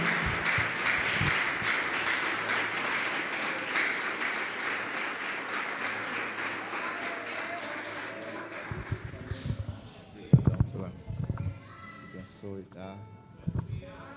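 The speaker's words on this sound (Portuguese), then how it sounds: "Dá uma linda salva de palmas para o Senhor" Church congregation applauding for the Lord during a Portuguese-language worship service, a broad steady wash of clapping for several seconds that fades out, followed by sparse louder sounds and a voice.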